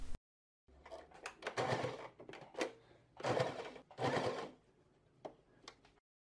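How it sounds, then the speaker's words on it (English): Sewing machine edge stitching a patch pocket with the left needle, short bursts of fast mechanical whirring separated by pauses, close and fairly quiet, no talking. "this needle on the left is going to edge stitch the pocket here"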